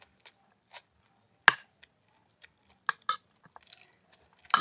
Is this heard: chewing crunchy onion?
yes